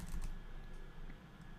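Typing on a computer keyboard: a few faint, quick key clicks over a low steady room hum, no speech.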